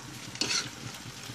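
Daing fish and malunggay stewing in a pan are stirred with a utensil: one brief scraping stir over a steady close sizzle, with no voices.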